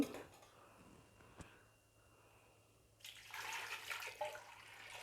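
Water sloshing and swirling inside a wet grinder being rinsed out, a quiet wash at first that turns into louder, steady splashing and churning halfway through.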